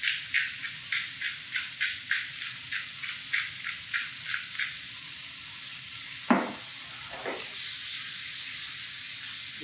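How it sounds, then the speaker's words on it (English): Garlic with salt and pepper sautéing in a pan, an even sizzle under a regular series of soft scraping strokes, a louder clatter near the end, close up with no talking. "You saute it over a little bit"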